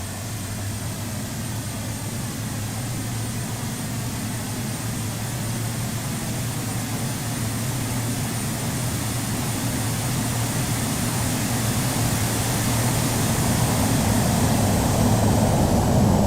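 Boeing 747-400 jet engines spooling up for takeoff in a flight simulator game, a steady broad roar with a low rumble that grows slightly louder across the run, with no talking.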